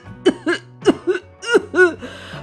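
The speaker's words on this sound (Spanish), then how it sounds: "¡Provoca tos!" Four short, hoarse coughs in quick pairs, close and loud, with a faint background hum.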